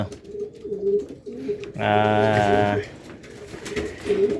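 Racing pigeons coo up close, with one clear, loud, throaty coo in the middle and softer calls around it, and no talking.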